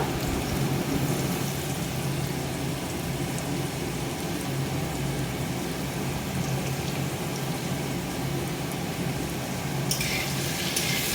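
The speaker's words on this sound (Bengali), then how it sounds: "আলু ছোট ছোট ডুমো ডুমো করে কেটে প্রথমে লবণ হলুদ দিয়ে আমি এটা ভেজে নেবো" Diced potatoes frying with salt and turmeric in a hot pan for an egg curry, a steady dense sizzle throughout with a brief brighter hiss near the end, no voices.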